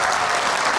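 Dense, steady audience applause welcoming Kavin onstage, a loud, unbroken wash of many hands clapping at close range throughout.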